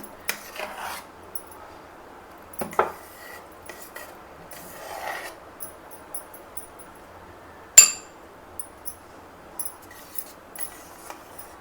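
Homemade natural mango ice cream is scooped into a bowl, giving scattered scraping rasps and light clinks of a spoon against the dish over a faint steady background hiss, with one sharp clack partway through.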